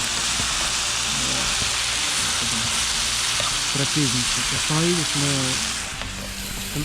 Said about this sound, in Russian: курочку с грибочками жарим, с лучком, с помидорками